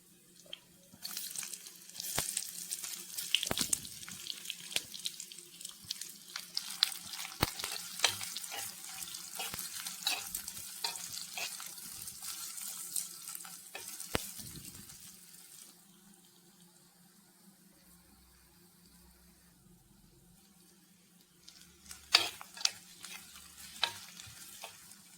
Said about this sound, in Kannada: ಒಂದು ದೊಡ್ಡ ನೀರುಳ್ಳಿ ಹಾಗೂ ಒಂದು ಟೊಮೆಟೊ ಒಳ್ಳೆ ಫೈನ್ ಮಾಡಿ ಕಟ್ ಮಾಡಿದ್ದನ್ನು ಸಾಫ್ಟ್ ಆಗುವ ತನಕ ಫ್ರೈ